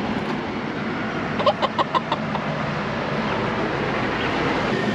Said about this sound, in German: Ah, hier kann man auch Hühner kaufen.